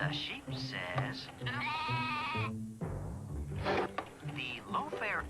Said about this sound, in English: The sheep says.